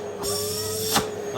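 Hoover Eco G vacuum cleaner running on its minimum power setting, a steady quiet motor hum with a faint whine, briefly swelling near the end.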